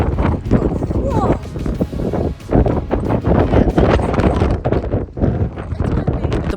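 Strong wind roars and buffets the microphone in loud, continuous gusts with brief lulls, filling the whole recording.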